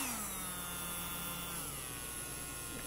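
Electric nail drill running at full speed, a steady high whine with a smooth motor hum that dips slightly in pitch partway through, close and continuous with no voices.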